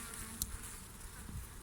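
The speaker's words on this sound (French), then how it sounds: "Oui, il y a de l'abeille." Honeybees buzz softly and steadily around an open beehive during a winter food-store check, a faint continuous hum with one brief closer buzz passing near.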